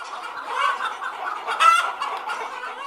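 A Kadaknath black chicken, a rare breed endemic to the area, clucks close by in a steady, continuous string of soft clucks with one sharper squawk midway.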